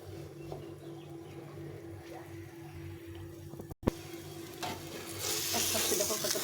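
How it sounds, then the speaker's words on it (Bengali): Flatbread flavored with black cumin pan-frying in a small amount of oil, giving a steady low sizzle with light scraping that swells into brighter, louder crackling near the end. "একদম অল্প তেলে এটা সেঁকে সেঁকে ভেজে নেব"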